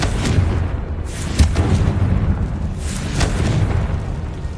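Confringo fire spell explosion in Hogwarts Legacy, loud booming blasts with a sharp burst just before the midpoint and another around three seconds in, over a dense continuous rumble.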